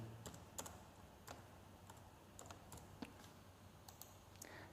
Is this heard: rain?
no